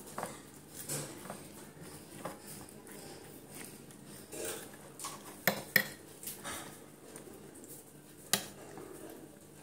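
Food being mixed and kneaded by hand in a bowl for a home-cooked lunch, with soft squelching and scattered clinks of utensils against dishes in an irregular rhythm, close by.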